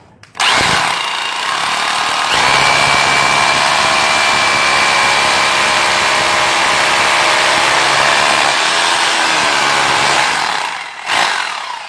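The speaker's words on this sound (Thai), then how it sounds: "เดี๋ยวเราจะลองเจาะพื้นหน้าบ้านดูครับ" An Enzo 2-26 rotary hammer drill bores into a concrete floor in front of a house, a loud, continuous hammering roar that starts abruptly, holds steady for about nine seconds, then cuts off with a brief restart.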